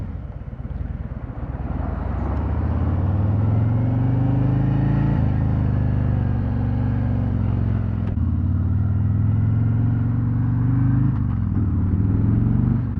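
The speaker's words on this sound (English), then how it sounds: "This trike actually has a little bit of rumble coming out of those exhausts." A 2024 FreeWheeler trike pulls away from a traffic light, its exhausts giving a loud, steady low rumble that builds slightly as it rolls off.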